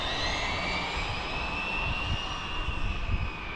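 High-pitched whining electric motor of an Arrma Felony 6S RC car, a steady loud whir with a rising tone close by, running continuously with no talk.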